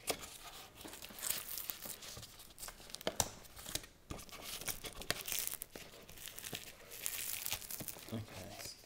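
Glued header rail being peeled off the convertible top of a 1998 BMW Z3, a series of close, crackling tears and crinkles of vinyl and adhesive coming loose in uneven bursts.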